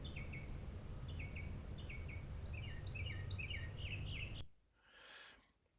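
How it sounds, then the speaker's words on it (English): A northern mockingbird sings repeated bright two-note chirps in quick, evenly spaced phrases against a low background hum, and the song stops abruptly near the end. "That first part, the chia-cha, chia-cha, chia-cha, is northern mockingbird"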